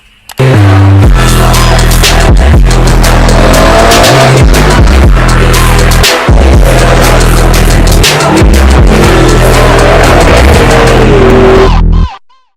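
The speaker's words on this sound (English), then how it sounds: "We've even got a burnout at the end of the film for you." A car burns out in a loud, sustained roar of engine and squealing tyres that starts abruptly and runs for about eleven seconds, harsh and close, with the pitch wavering before it cuts off.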